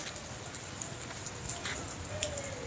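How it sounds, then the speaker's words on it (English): Rain falls in a steady, soft patter with scattered drips and faint background noise, continuous and fairly quiet throughout. "So you enjoy such a beautiful raining."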